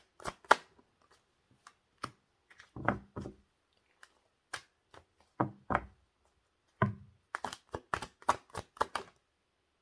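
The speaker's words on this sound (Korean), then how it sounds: "추가 카드 좀 뽑아볼게요." Tarot cards being drawn and handled during a reading, a run of crisp separate slaps and riffling flicks that comes in bursts with pauses between, and a dense cluster of quick snaps near the end.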